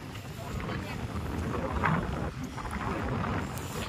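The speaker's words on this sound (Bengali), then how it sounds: "নদীর যে জলোচ্ছ্বাসের একটা শব্দ, প্রবল যে শব্দ হয় সেটা কিন্তু কানে আসছে।" Surging water of the Matla river near moored boats, a loud broad rushing wash mixed with wind buffeting the microphone, steady throughout with faint voices underneath.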